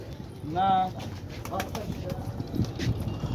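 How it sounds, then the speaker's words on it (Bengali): Pigeons coo aboard a ship at a river port ghat near Nagarbari, Pabna, a brief close warbling coo followed by softer sounds amid wind and faint voices. "অনেক কবুতর আছে এখানে।"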